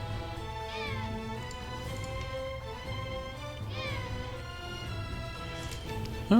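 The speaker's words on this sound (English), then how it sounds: "Another cat." A cat meows twice in the video game Another Eden, each cry a drawn-out rising call, over a steady looping music and ambient backdrop.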